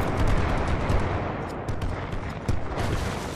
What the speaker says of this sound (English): they're heavy artillery